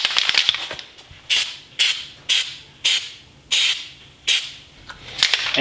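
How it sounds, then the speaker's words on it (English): A series of about seven short bursts of aerosol rubberized undercoating spray hiss up close onto a rust-repaired car panel, each lasting under half a second, separated by brief pauses and faint rattling. "I'm gonna spray down this little section."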